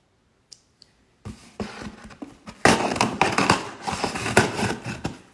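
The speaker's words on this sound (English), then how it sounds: "Had to get my scissors. Let's open it." Two faint clicks, then rustling and scraping as cardboard is cut and pulled open with scissors, growing louder and busier.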